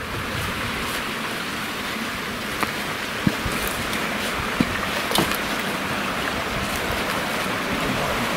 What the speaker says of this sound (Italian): Questo è il fiume